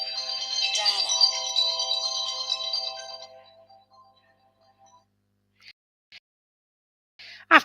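A telephone ringtone plays loudly for about three seconds and then fades out, leaving near silence broken by a few faint clicks and a short sharp noise at the end.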